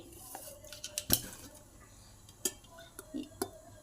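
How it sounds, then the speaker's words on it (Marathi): A few sharp metallic clanks and clinks of a wok being set on a gas stove, with soft shuffling and quiet background between the knocks. "आता मी ती गॅसवरती कढई ठेवलेली आहे।"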